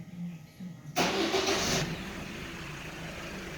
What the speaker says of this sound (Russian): и запускает двигатель